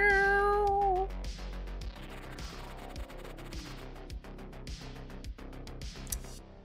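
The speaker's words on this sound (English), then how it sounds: "Cat's having a tantrum because I won't let him out in sub-zero temperatures." A pet cat meows loudly to be let out into sub-zero cold, a single drawn-out close cry, followed by faint clicking and tapping sounds.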